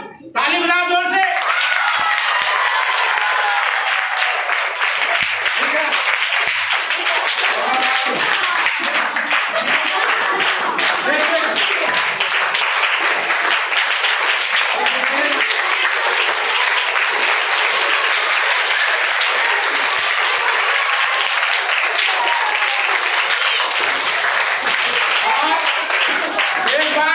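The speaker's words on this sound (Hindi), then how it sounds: "ताली बजाओ जोर से।" Schoolchildren in a classroom clap loudly together for nearly half a minute, a steady, dense roar of applause that stays even in volume from start to finish, with faint voices buried underneath.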